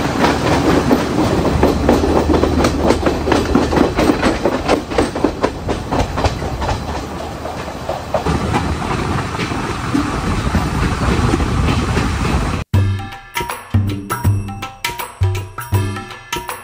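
A swaying passenger train runs fast on broad gauge track in Sri Lanka, giving a loud continuous rumble with rhythmic wheel clatter for about twelve seconds. The sound then cuts suddenly to a different, choppier pulsing pattern.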